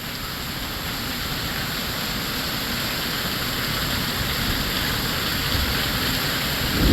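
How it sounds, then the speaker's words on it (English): Heavy rain pours steadily onto an RV homestead patio in Texas and streams into gutters, a dense, constant hiss and rush with no voices, swelling slightly toward the end. "Check out this rain footage."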